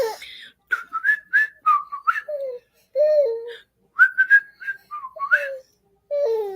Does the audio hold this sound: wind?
no